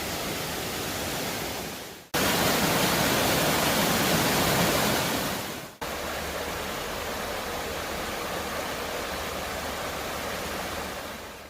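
Rushing water along a Gatlinburg trail near Cataract Falls makes a loud, unbroken roar, cut off abruptly twice and resuming at a slightly different level.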